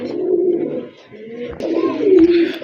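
A pair of local desi pigeons, one pure white, coo steadily in low, rolling phrases close by, with a brief pause midway before the cooing resumes, louder, alone without speech.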